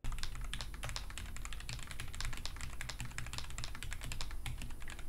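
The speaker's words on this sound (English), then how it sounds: "So here's what it sounds like to type on the keyboard." Rapid, continuous typing on an AZIO Retro Classic mechanical keyboard with Gateron switches, close and crisp, the key clicks tumbling in a quick, even stream throughout.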